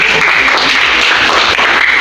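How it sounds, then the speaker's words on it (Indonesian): A group of students claps together at a school ice-breaking session of chained name introductions, a dense, steady burst of applause lasting about two seconds. "Tepuk tangan."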